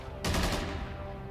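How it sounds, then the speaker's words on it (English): A single sharp burst of gunfire erupts in a TV show tomb scene, loud and close, then trails off into a low rumbling tail. "There's gunshots. What are they shooting at?"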